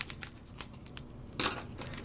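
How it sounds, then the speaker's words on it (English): Small scissors snip at the plastic wrap of a first edition Rage of the Broken Sky trading card booster box, a few quick crisp cuts and crinkles spaced across a short stretch, close to the mic and fairly quiet. "May have to get my scissors."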